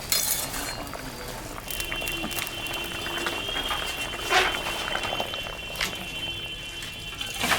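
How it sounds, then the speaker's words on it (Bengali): Fish curry bubbles softly in a pot as the fish is slipped in, a low steady simmer with faint liquid stirring and a few light clinks of utensils. "ঝোলটা ফুটে গেছে বন্ধুরা এখন আমি মাছটা দিয়ে দেব"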